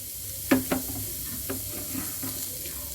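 Onions frying in oil over high heat with salt, crushed red chilli and turmeric for chana pulao, a steady close sizzle broken by a few sharp stirring clinks and scrapes.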